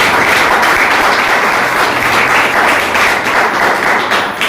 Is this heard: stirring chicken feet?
no